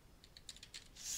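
Someone types a keyword on a computer keyboard in quiet, soft taps that come in a short, uneven run, faint and close, followed by a slightly louder burst at the end.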